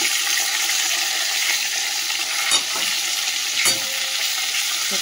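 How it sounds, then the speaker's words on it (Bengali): Eggplant slices fry in a pan in a home kitchen, giving a steady, loud hiss of sizzling oil with a couple of brief stirring knocks and no talk. "চলো বেগুনগুলো একটু লাল করে ভেজে নিয়ে শুকিয়ে নেব"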